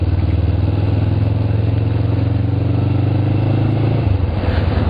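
A motorcycle engine drones steadily at close range during a test ride on new aluminium brake and clutch levers, holding a constant rumble that shifts pitch just before the end.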